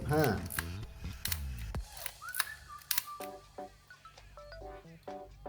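A Canon Canonet QL17 III film camera has its leaf shutter tested at successive speeds, giving several small, close mechanical clicks and snaps spread through the passage over faint room noise.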